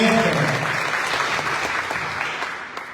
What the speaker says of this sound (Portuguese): Vamos aplaudir essa palavra, meus irmãos. Pode aplaudir mesmo com fé.